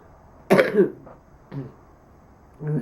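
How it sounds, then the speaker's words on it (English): A harsh, chesty cough bursts out once, followed by two shorter, rougher coughs spaced about a second apart, close and fairly loud. "That's a very bronchial cough"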